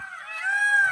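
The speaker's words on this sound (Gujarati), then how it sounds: "મોર કોંકરે છે મિત્રો." A peacock calling in rural Gujarat, one loud, harsh, nasal honking cry held for just under a second.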